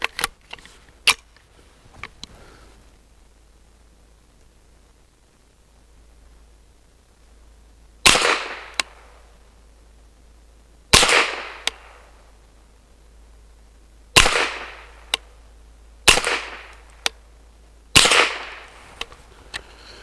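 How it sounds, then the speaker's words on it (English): Shots from an MBGL Goat-15 rifle firing Federal Game Shock 40 grain ammunition ring out as about five loud, sharp cracks spaced a few seconds apart, each with a short decaying echo, after a few faint clicks. "Next up is the Federal Game Shock 40 grain."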